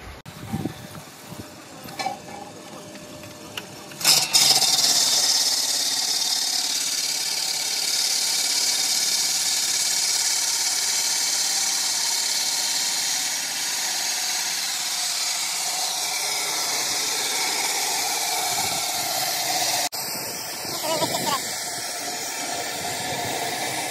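A machine cuts laterite stone blocks in a quarry, starting with a few knocks before a loud, steady high-pitched grinding whine takes over and runs on continuously, with brief clatters near the end.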